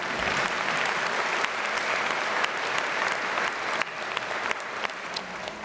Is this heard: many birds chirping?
no